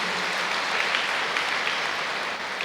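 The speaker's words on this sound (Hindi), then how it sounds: "हाँ, ताली बजाओ" Audience applauding at a Brahma Kumaris spiritual discourse: dense, steady clapping from a sizeable crowd, loud and even for the whole span, with no talking over it.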